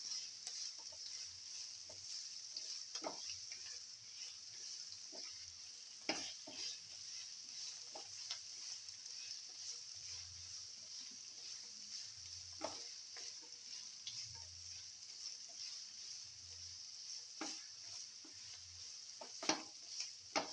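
Onion, ginger and garlic sautéing quietly in a pan, a faint steady sizzle with occasional light stirring clicks and scrapes over about twenty seconds, close and with no voices.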